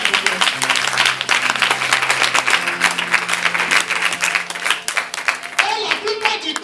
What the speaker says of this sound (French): Applaudissez l'Éternel.